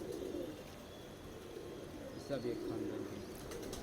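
Domestic high-flying pigeons cooing in a loft in Gopal Katra, Prayagraj, soft repeated coos heard faintly beneath a man's conversation.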